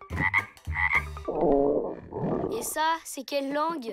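In a French children's cartoon, a hungry character's stomach gives a long, loud, gurgling cartoon growl that rumbles for over a second between bits of animated dialogue.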